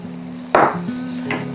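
Mushrooms are frying in a pan when soy sauce is poured in, setting off a sudden loud burst of sizzling that hisses on close by and then flares again briefly.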